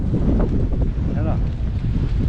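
Strong wind on a hill trek above the Pant Sagar reservoir at Renukoot, Sonbhadra, buffets the microphone with a constant, heavy roar, and faint voices can be heard briefly beneath it.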